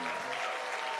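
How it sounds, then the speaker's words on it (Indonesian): Applause during a morning prayer service, a brief dense wash of clapping from the congregation that stays even throughout. "Tepuk tangan buat Yesus, ya."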